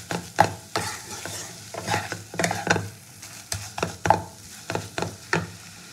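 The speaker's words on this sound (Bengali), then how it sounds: "এবার সব উপকরণগুলো নেড়ে চেড়ে একটা পুর বানিয়ে নেবো চপের।" A spoon stirs a mashed potato and fish filling for fish chop in a pan, giving repeated close scraping strokes in an irregular rhythm over a faint sizzle.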